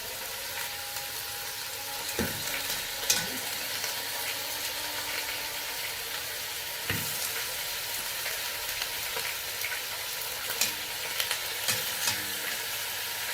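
Chicken pieces fry in a pot with no other ingredients added, giving a steady, even sizzle with a few scattered pops and stirring knocks throughout.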